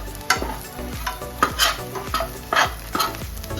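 Ingredients are tipped into a pan and mixed during home Goan cooking, with about eight sharp spoon scrapes and clacks against the pan in an uneven rhythm, close and clear over a soft background hiss.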